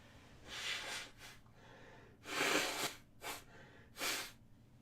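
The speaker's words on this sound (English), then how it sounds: "I have to blow my nose" Someone blows their nose in a series of five short, forceful honking bursts separated by quiet pauses, close up.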